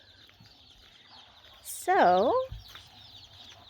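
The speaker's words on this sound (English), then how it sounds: "Luis just got home with our first batch of chickens for the season." Young Cornish Cross chicks in a brooder let out a loud, close burst of warbling, descending peeps and clucks over quiet background rustle, with a short spoken word just before.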